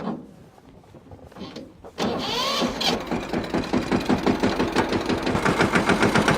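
A tractor engine cranks and starts after a quiet moment, then settles into a loud, rhythmic thumping idle close by.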